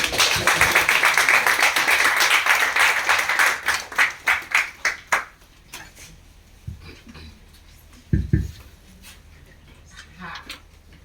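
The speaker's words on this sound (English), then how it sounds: "let's clap for her again because it's not easy" Dense applause from a bootcamp lecture audience for several seconds, thinning into scattered individual claps that trail off, with a few faint voices afterward.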